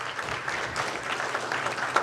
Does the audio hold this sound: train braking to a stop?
no